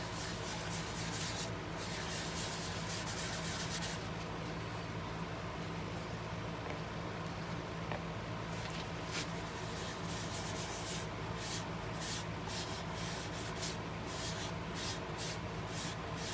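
Abrasive paste is rubbed steadily onto a black walnut bowl, making a soft, continuous hushing scrape at low volume with no voices.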